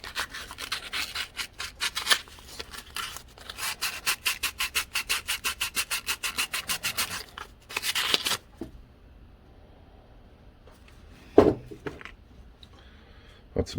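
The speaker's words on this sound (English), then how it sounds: "So I'm going to clean that up with some sandpaper quickly" Sandpaper rubbed in rapid rhythmic back-and-forth strokes over corroded ignition contacts on a Pioneer P61 chainsaw, close and brisk for about eight seconds, then quiet with a single sharp knock.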